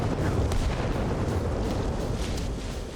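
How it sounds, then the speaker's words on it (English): A large mortar shell detonates in Arma Reforger, a deep, rumbling boom that rolls on for the full three seconds with low, heavy energy and a slow fade. "Large mortar, boom, that is a massive area."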